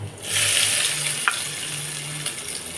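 Onions frying with garlic in a pan give a steady, close sizzle that swells after a quiet start and holds loud, with a single soft scrape partway through and no voices.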